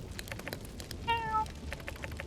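A cat in the video game My Time at Sandrock gives a single clear meow midway, set over steady game background sound and faint tapping.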